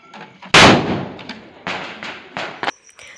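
A firecracker bomb set off at home during Diwali gives one sharp, loud, close-range blast, followed by a few quieter pops and thuds with faint voices in the background.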